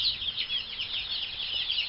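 Chickens in a yard cluck and chatter in a continuous, busy chorus of high, overlapping calls at moderate volume.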